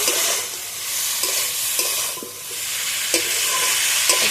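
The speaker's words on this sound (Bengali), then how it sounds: "মশলার উপরে এইভাবে মাছটাকে কষে নেবো একটু" Small river mourala fish fry in a spice paste in a pan, with loud, continuous close sizzling and periodic scraping strokes from stirring, with no voices.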